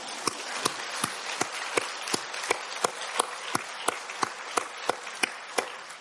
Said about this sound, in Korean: 박수 한번 쳐야 되지 않아요?